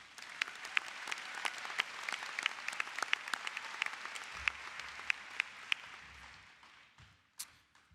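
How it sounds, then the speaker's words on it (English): A high school graduation crowd applauds the students, a soft, distant wash of many hands with crisp nearby claps popping out, fading toward the end before a last clatter. "Please join me in another round of applause for our incredible students."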